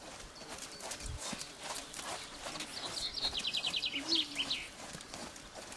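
A horse trots on a lunge line, its hooves beating a steady rhythmic clip-clop outdoors at moderate distance, with birds chirping faintly in the background.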